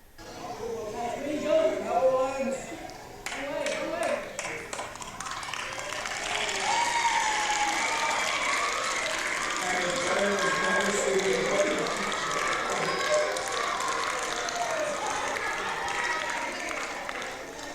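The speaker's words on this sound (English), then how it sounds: "The thing to listen for is the applause." An audience applauds and cheers as a drone takes off on a study tour, the clapping swelling into a broad, steady wash that carries on for many seconds after a brief louder burst at the start.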